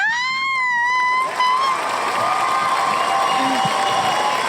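A crowd cheering and applauding from the start, a steady dense wash of claps and shouts with a rising whistle-like tone early on, continuing loudly throughout.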